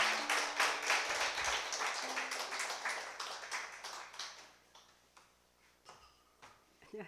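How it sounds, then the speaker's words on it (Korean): A church audience claps to welcome a speaker after a breast cancer healing testimony: full, rhythmic applause at first, thinning into scattered individual claps that fade toward the end. "박수로 환영해 주시면 됩니다."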